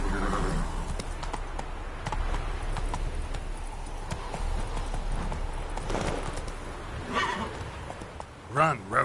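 Roach, a horse in The Witcher 3, gallops with a steady clip-clop rhythm and gives a whinny, under game music and effects, with someone talking over it and louder bursts near the end.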